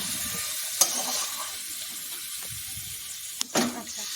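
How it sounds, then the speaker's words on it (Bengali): Chicken curry meat frying in a pan is stirred, a steady bright sizzle running throughout with a few sharp scrapes and clatters of the spoon against the pan. "এবার মাংসটাকে আমরা ভালো করে নেড়ে নেব, তারপর ঢাকা দিয়ে দিয়ে বেশ কিছুক্ষণ ভালো করে কষিয়ে নেব।"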